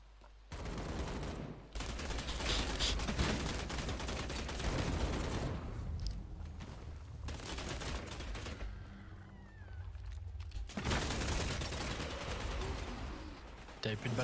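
Gunfire from a vampire battle-royale shooter, Vampire: The Masquerade Bloodhunt, with dense bursts and volleys of shots running nearly throughout, loud and close, under sporadic talk and game sounds.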